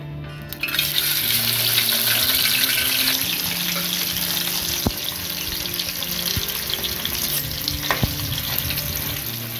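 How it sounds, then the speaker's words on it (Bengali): Bhetki fish frying in oil left from browning onions, a loud, dense crackling sizzle close up that holds steady, with occasional sharp spatters and clinks of a utensil. "তার যে তেলটা আছে সেই তেলেই আমি মাছটা ভেজে নিচ্ছি।"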